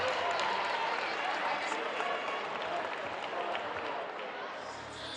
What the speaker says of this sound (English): let's hear a nice big round of applause for all of your Senate League